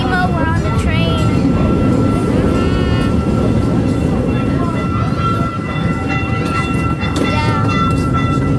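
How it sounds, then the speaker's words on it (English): Train ride at Kema, with a steady loud rumble of the carriage running on the rails, plus squealing wheel and flange tones throughout, heard from inside the moving train. "we're on the train"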